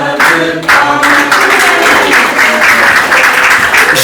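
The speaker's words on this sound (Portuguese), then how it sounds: "cantam as nossas almas para o menino dizer uma salva de palmas." Congregation applauding for a birthday during a Sunday church service, steady dense clapping from many hands throughout, fairly loud and close, with no break.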